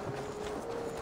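Horse hooves clip-clop in Assassin's Creed Valhalla. The hoofbeats are steady and hard to pick out under dense, loud game ambience that fills the whole moment.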